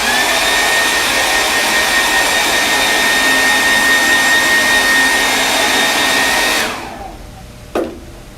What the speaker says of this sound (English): Use my blow dryer